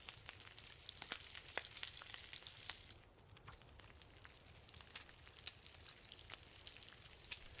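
Fish sizzles and crackles as it cooks over a campfire in The Long Dark, a faint, steady frying hiss broken by sharp pops throughout.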